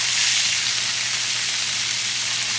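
Flipped flank steak for Ecuadorian churrasco sizzles loudly and steadily in a hot pan, a dense, close, continuous frying hiss with no voices over it.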